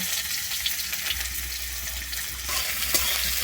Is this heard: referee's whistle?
no